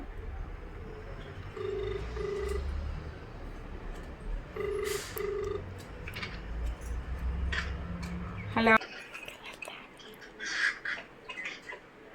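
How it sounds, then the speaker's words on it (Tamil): During a phone call, the line rings with two short ringback bursts over a noisy room background, with scattered chirps and clatter, and the hum cuts off abruptly near the end. "இப்போ ஃபோன் போட்டு வள்ளின்னு சொல்ல போகிறோம்"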